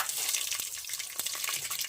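Mustard seeds crackle and splutter in hot oil for tempering a paneer pulao, a close, steady sizzle dotted with sharp pops and no voices.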